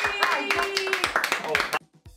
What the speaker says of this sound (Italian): sulle mani, un bel applauso Andrea